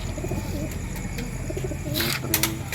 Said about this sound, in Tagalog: Ito yung gift bird ni Sir Alan, no?